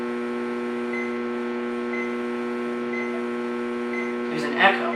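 Clock radio alarm sounding, a steady electronic buzz-tone held throughout, fairly distant and echoing in a room, with a faint rhythmic beep about once a second and a brief louder burst near the end.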